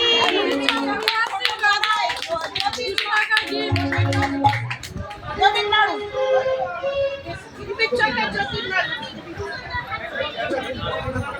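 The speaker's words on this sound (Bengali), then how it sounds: "হাততালি।" Clapping hands mix with children's chatter and lively crowd noise at a Bengali Christian gathering, the applause steady and close among overlapping voices and music-like tones throughout.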